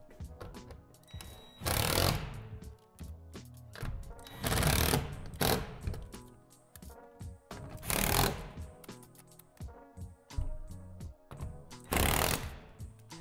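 A power driver drives screws through the roof panel into the wall panel of a plastic 8 by 20 foot outdoor storage shed, in four short loud whirring bursts separated by quieter handling noises.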